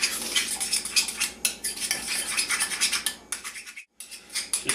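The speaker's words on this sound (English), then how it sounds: "I'm just going to mix that together" A utensil stirs sriracha mustard sauce in a small dish, quick rhythmic scraping and clinking of metal against the bowl, close and busy with a brief pause near the end.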